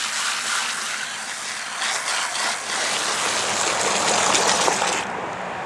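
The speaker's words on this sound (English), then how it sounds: "fill it up with some water" Water gushes from a tap or hose into a container for rabbit-manure fertilizer, a continuous splashing, hissing pour that grows slightly fuller as it fills, then cuts off abruptly near the end.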